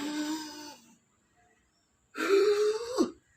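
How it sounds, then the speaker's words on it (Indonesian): A person recovering from Covid-19 draws a deep, rasping breath during a breathing exercise, a first breathy pull, a pause of near silence, then a louder, throatier inhale close to the mic, with no speech. "Saya tarik nafas dalam-dalamnya."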